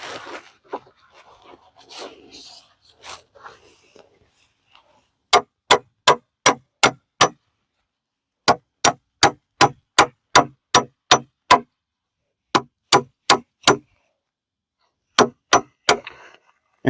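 Metal pipe pieces being hammered into the ground to anchor a wooden raised garden bed, heard as sharp ringing clangs in quick bursts of about five to eight strikes separated by pauses, after some quiet rustling.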